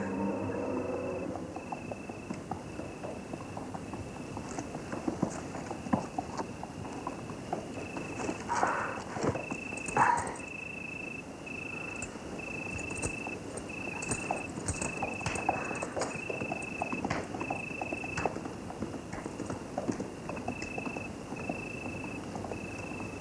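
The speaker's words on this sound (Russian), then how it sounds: "Не стреляй! Это же лошадь." A horse's hooves clip-clop at a walking pace, soft and somewhat distant, with intermittent thuds over faint insect chirping in an outdoor setting.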